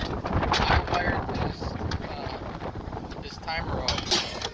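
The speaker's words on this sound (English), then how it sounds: "Wow, it is pretty windy out here." Wind gusts across a microphone outdoors during work on an Intermatic time clock, producing rough, uneven buffeting that swells and eases throughout, with some speech-like sound mixed in.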